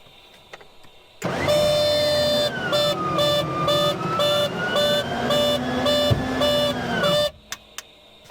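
Aircraft landing gear with a suspected fault retracting: a loud, steady electric hydraulic whine with a pulsing tone runs for about six seconds, then cuts off abruptly into quiet cabin hum.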